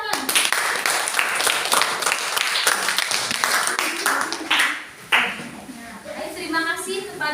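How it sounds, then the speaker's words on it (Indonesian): A class of schoolchildren claps in a lesson on honesty, a bright steady patter of small hands that dips in the middle and resumes. A teacher's voice and children's voices sound over the clapping. "Tepuk tangan."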